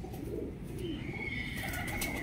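Red Bull bread pigeons of a show pair cooing nearby, a low murmuring coo running steadily under a faint higher whine and light background noise.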